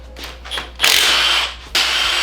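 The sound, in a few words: power tool loosening bolts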